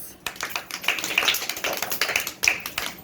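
Children clapping their hands together in a classroom, a short burst of quick, uneven claps that sound close and fairly loud and carry on for about three seconds.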